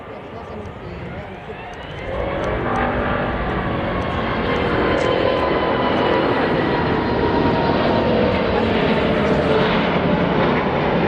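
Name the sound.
Airbus A380 jet aircraft going around after unstable approach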